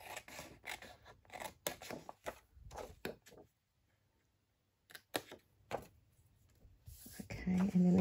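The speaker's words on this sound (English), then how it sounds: "I'm going to do the same and do my little angle cutting." Scissors cut angled corners on a paper envelope in a run of close, crisp snips, then a quiet pause, a few more cuts, and a burst of louder handling noise at the end.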